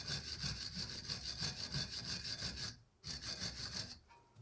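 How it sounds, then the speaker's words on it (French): A brush scrubs a rear brake caliper near the rubber boot on a Peugeot 205 GTI during a pad change, giving steady rapid back-and-forth rasping strokes, close and continuous, with a brief pause before it resumes. "À mettre un petit coup de brosse, on fait attention au soufflet"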